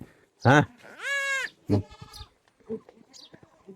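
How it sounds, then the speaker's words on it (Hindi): Goats bleat in a hillside village in Uttarakhand: a short bleat, then a long quavering one, then another brief call, loud and nearby, while someone speaks briefly and softer voices murmur in between. "बहुत सारे बकरी।"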